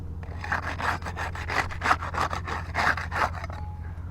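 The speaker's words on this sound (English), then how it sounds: "We'll get started with the putty knife. We'll use that to unseal the top shingle" A putty knife works under the sealed top roof shingle to unseal it, making a close, rhythmic series of about a dozen rasping scrapes in quick strokes.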